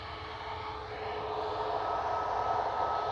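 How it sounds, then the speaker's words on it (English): A Ryanair Boeing 737 MAX 8200 gives a faint, steady jet whine and rumble that builds slightly over a few seconds, heard on its own at a distance. "Ryanair to Paris adjacent."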